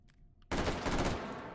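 Battle rifle fire sprays down a hallway in a video game, a sudden loud sustained burst of rapid shots that cuts in after a near-silent moment and holds to the end.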